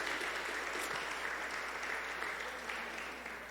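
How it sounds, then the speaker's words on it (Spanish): A church congregation at the close of a retreat applauds together in steady, full, close clapping that holds for the whole stretch and eases slightly at the end. "Démosle un aplauso al Señor y a nosotros mismos también"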